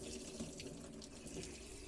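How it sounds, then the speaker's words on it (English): Water streams steadily from a kitchen faucet with its spout removed, a soft continuous splashing rush into the sink at low level, heard during troubleshooting of an on-demand water heater. "just remove the spout for the kitchen faucet and run it"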